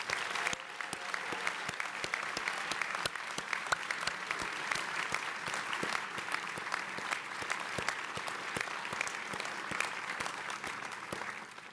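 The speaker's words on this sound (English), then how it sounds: "Let's give them one final round of applause." Sustained applause from an audience at a law school graduation for the class of 2017, a dense even wash of clapping from many hands lasting throughout, moderately distant.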